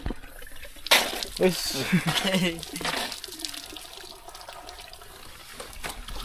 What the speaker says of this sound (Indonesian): Tinggal buka keran.